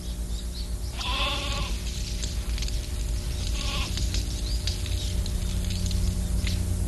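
A goat bleats twice, about three seconds apart, loud and close over a constant low rumbling background.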